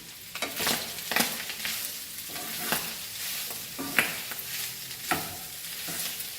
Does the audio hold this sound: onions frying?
yes